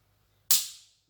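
A single sharp metallic click from a Walther GSP sport pistol dry-firing, crisp and close, with a brief bright ring that fades within half a second.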